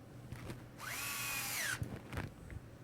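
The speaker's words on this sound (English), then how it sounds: "Put my screws in here." A power screwdriver drives a screw into an RC touring car chassis, one short whirring burst that rises and falls in pitch, followed by a couple of small clicks and taps, close and fairly quiet.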